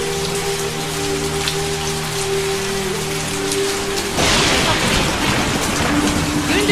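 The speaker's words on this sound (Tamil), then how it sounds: "ஒரே மின்னலும் மழையுமா இருக்கு" Heavy rain in a Tamil movie scene, a steady hiss under a sustained musical tone that swells into a louder, denser downpour partway through.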